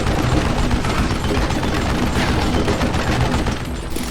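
Rapid, dense gunfire fills a shootout in the Western video game Call of Juarez: Gunslinger, with loud, close shots overlapping into a continuous barrage for the whole stretch, with no speech.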